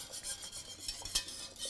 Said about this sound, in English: I'm going to stir it just to make sure that cornstarch actually gets cooked